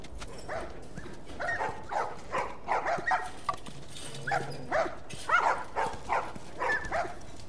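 Repeated dog barks and yips from the video game The Last of Us Remastered, in a busy rhythm over a constant background hum, fairly close, with no talking.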